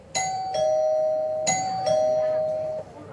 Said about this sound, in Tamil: திரும்பியும் காலிங் பெல் அடிக்கிறா